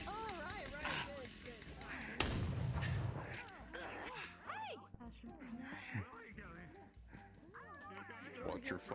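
A loud burst of gunfire in the video game Dusk cracks out over a few seconds while several voices keep talking and shouting over it.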